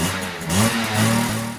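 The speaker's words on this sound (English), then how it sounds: "With one kick start, he fires up the getaway machine and dumps the clutch" A Suzuki LT500 Quadzilla four-wheeler engine revs hard after a kick start, its loud close whine rising in pitch and surging in quick bursts.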